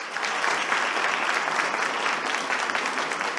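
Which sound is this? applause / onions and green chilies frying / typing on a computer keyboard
applause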